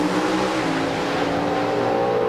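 Pro Stock drag racing cars of about 1,300 horsepower on racing gasoline with 5-speed transmissions roar steadily at an NHRA national event, a loud, sustained engine drone with no speech.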